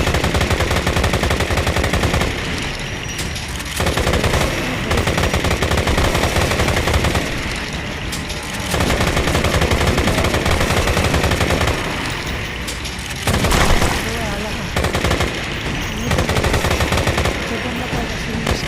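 Machine guns fire in sustained automatic bursts with short pauses between them in the video game Left to Survive. The rapid gunfire is loud and dense, and speech is mixed in at times.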